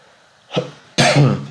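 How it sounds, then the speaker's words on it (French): A person coughs during a sudoku puzzle solve: a short throat-clearing burst followed by a louder, harsher cough, close and alone with no talk. "Ah, ça y est, je vais tousser."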